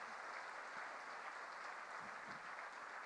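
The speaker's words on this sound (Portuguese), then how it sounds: "Dá uma linda salva de palmas para Jesus" Applause from a church congregation during a conference service, a sustained wash of clapping that stays even and fairly distant throughout.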